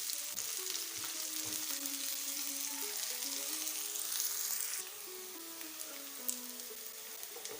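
Sliced onions sizzle and fry in a pan for a bhindi egg fry, a dense, steady crackling hiss close up with occasional stirring scrapes, continuous throughout and without talk.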